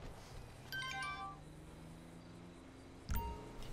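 A text message notification tone in GTA V sounds as a short, bright cluster of chiming beeps over quiet game ambience, with a second faint chirp near the end.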